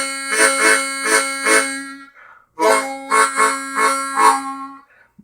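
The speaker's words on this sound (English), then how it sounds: "The sort of lip pursed or lip blocked slap is going to sound a little different." Lip-blocked chord slaps on the 3 draw of a low D acoustic harmonica, two bursts of rhythmic reedy chords over a sustained low note, loud and close, separated by a brief pause.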